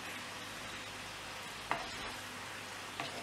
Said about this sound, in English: So just give this a stir through.